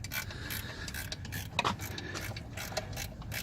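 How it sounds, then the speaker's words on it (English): Ratchet wrench clicking in short bursts while a car alternator is unbolted, close and fairly quiet, with a few sharper metallic clacks of tools and parts in a garage. "now we're just in the process of removing the alternator"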